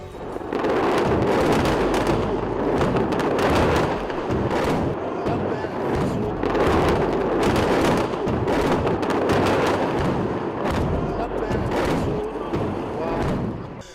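A Hezbollah rocket barrage fired at IDF bases in northern Israel produces a dense run of distant booms, thuds and whooshing launches, repeating in bursts over a continuous rumble with faint voices underneath.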